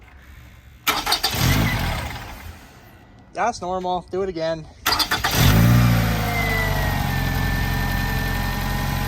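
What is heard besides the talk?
2015 Scion tC engine starting and idling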